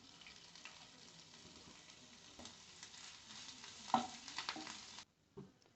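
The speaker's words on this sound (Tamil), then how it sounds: "அடுத்தது நம்ம பொடி பண்ணி வச்சுருக்கிற இஞ்சியை போட்டுக்கலாம்." Garlic and ginger frying in oil in a pan for a roadside-style mushroom soup, a soft steady sizzle with a few faint clinks and scrapes of stirring, quiet and close, before cutting off near the end.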